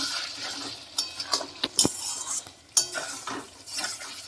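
Chicken coated in hand-ground spices fries in hot oil for a chicken curry, giving a steady close sizzle broken by several sharp clinks and scrapes of a utensil against the pan.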